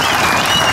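An audience applauds at a groundbreaking ceremony for a Quran course building, a loud, dense burst of many hands clapping together, close and steady for under a second.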